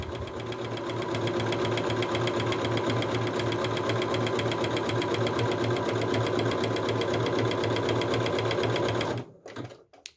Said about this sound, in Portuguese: E faço o zigue-zague em toda a extremidade na borda do tecido.